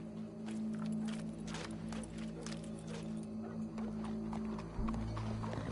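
A horse's hooves clip-clop near at hand in a steady walking rhythm, with a low rumble under the beats and a brief heavier thump toward the end.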